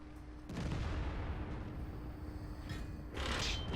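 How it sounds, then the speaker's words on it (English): In a World War II video game, Japanese heavy tanks fire their guns: a heavy cannon blast booms at the start, then a rumbling roar follows. A second sharp shot comes near the end, with no talking. "Something's still shooting him."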